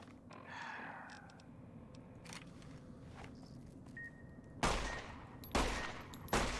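Gunfire in Fallout: New Vegas: a few sharp, loud shots ring out near the end, set against a low, steady game ambience with faint scattered clicks and footsteps earlier on.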